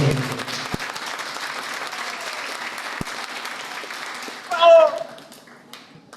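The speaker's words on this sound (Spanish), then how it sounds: "fuerte el aplauso para el doctor" Audience applause for a speaker at a talk fills the room steadily from start to finish, a dense patter of many hands clapping, with a brief whistle-like tone near the end.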